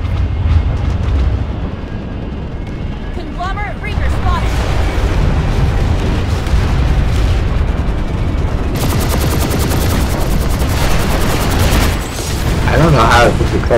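Sustained heavy gunfire on a silo at a base in the video game Planetside 2, dense overlapping shots and booms rolling on without pause, loud throughout with some high crackling bursts.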